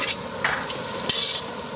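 Shredded cabbage and lentils sizzle softly in coconut oil in a large wedding-feast pan, with light stirring scrapes and a couple of brief clinks, steady and fairly quiet.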